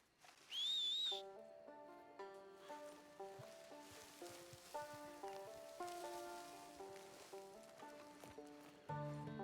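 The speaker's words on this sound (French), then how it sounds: "Je suppose qu'en sifflant, le cheval va venir tout seul." A short, bright two-tone whistle to call a horse in Red Dead Redemption 2 Online rings out at the start, then gives way to soft melodic background music with gentle patter.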